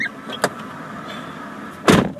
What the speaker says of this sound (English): Abby, can you open your door and close it?